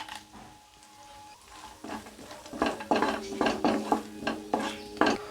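Cloves and cashews sizzle in a pan with hot oil, a quiet hiss that grows louder midway, broken by a series of close stirring scrapes and clinks of a spoon against metal.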